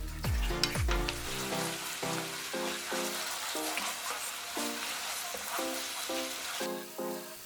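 Steady sizzling and frying of gochujang sauce in a pan with repeated scraping and stirring strokes of a utensil, close up, with no talking.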